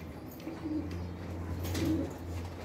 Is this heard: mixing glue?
no